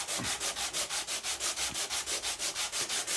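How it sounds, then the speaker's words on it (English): Hand sanding grime off an old Atkins saw, rapid regular back-and-forth rasping strokes, about five per second, close and steady with no talking. "hand sanding creates dust"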